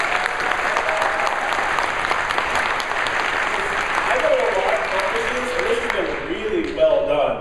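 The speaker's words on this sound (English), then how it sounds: "Can we give a big round of applause to the organizers and all the volunteers?" A conference audience at a WordCamp gathering in Boston gives a long, steady round of applause, a broad wash of many hands clapping, with voices rising faintly over it near the end.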